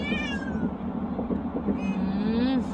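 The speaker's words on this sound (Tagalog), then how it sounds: "Maingay po yung ating baby pusa." A kitten lets out several high, wavering meows up close, over a low steady background hum.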